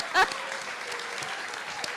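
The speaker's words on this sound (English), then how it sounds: "I also want you to applause again" Audience applause at a film screening panel, a dense continuous patter of clapping with a brief vocal whoop near the start.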